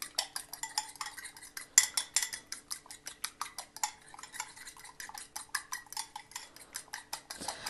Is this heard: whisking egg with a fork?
yes